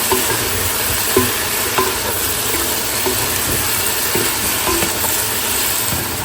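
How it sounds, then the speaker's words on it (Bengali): Chicken fries with ginger, garlic, cabbage, carrot and cauliflower in a pan, a loud, steady sizzle with intermittent scrapes and knocks of stirring throughout. "চিকেনটা আগে একটু আদা আর রসুন দিয়ে ভেজে নিচ্ছি ফুলকপিও দিয়ে দিলাম"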